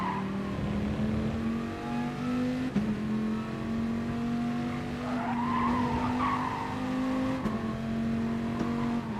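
Several race cars battle closely in the Gran Turismo Sport video game, their engines droning steadily with shifting pitch, gear-change dips and some tire squeal, loud and continuous with no talk.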